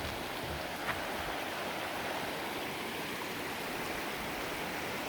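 A creek flows steadily beside a trail bridge on a wooded hike, producing a constant, even rush of water, fairly close and unbroken throughout, with no voices.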